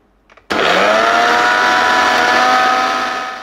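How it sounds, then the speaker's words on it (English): A kitchen mixer grinding apples bursts on after a brief quiet moment and then holds a loud, steady, high whirring roar that eases slightly near the end. "we have loaded the apple inside the mixer and now we're gonna be grinding it"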